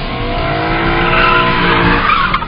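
A BMW M3 E92 with a V8 engine revs hard while sliding sideways, a loud, sustained engine roar mixed with tire squeal over a couple of seconds.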